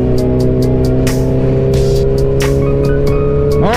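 A large group ride of motorcycles streams past nearby, loud, steady engine drone layered with repeated bursts of revving as individual bikes pass close, ending on a rising rev.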